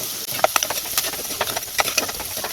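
Onions, curry leaves and green chillies sizzle as they are sautéed in a pan for a village-style anchovy curry, a steady close hiss broken by crackling pops and the scrape of stirring.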